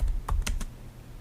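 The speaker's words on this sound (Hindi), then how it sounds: "मैं ज्वेलरी टाइप कर दूँगा" A few quick keystrokes on a computer keyboard as a product category is typed into an online store, crisp close clicks in a short burst with no talking.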